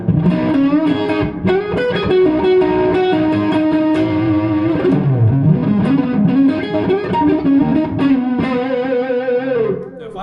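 Electric guitar played through a Gjika ADG asymmetric distortion pedal: sustained, moderately driven chords and single notes with a thick, harmonically rich crunch, loud and continuous for about ten seconds with no talking.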